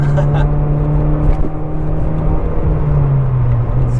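A 2018 Mazda 3 hatchback engine drones loudly and steadily from inside the cabin, rising slightly under load, with a voice speaking briefly over it.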